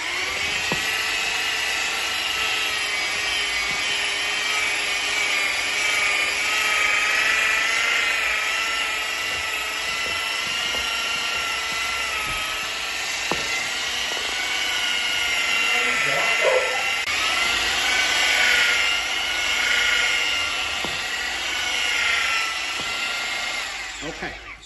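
A stone polisher fitted with a 1500-grit Tile Doctor six-inch burnishing pad, run at higher speed with light pressure, gives a steady, close, high-pitched whine for the whole stretch, broken by a few brief knocks.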